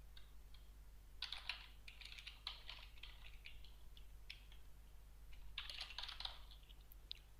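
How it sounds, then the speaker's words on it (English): Bursts of quick typing on a computer keyboard, clattering keystrokes in several short runs separated by pauses, faint and close against a low steady hum. "we will have to type it in manually"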